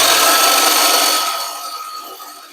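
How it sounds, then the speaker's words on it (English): A Dremel rotary bit with pink polishing paste buffs stainless BergHOFF cookware, a steady high whir and abrasive hiss close up that holds briefly, then tapers off softer over a couple of seconds. "I'm going to take some pink paste and a Dremel bit"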